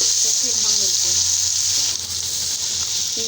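Coarsely ground ginger-garlic paste fries in a pan for a pulao, giving a bright, continuous sizzle and hiss at close range while a voice murmurs faintly underneath.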